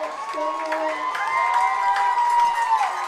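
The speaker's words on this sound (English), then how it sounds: "And you can hear the crowd here." A crowd at a high school football game between Chapmanville and Winfield cheers and shouts in a loud, sustained roar, with whistle-like tones and scattered claps rising through it.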